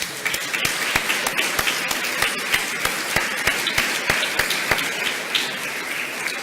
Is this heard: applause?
yes